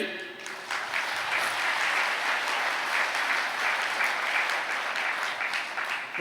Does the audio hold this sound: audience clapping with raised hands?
yes